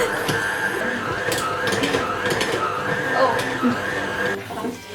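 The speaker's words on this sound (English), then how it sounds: "It's a lot of flour for our little machine. It's kind of going crazy." A small kitchen machine kneads bread dough with a lot of flour, a continuous strained mechanical whir and rattle running throughout, with voices talking over it.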